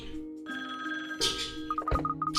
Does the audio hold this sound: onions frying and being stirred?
no